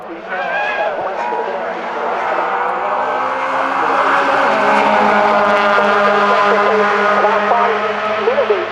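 750 Motor Club race cars lap Cadwell Park circuit in a continuous, loud, rising engine howl that swells as the cars approach and pass, with a voice faintly underneath.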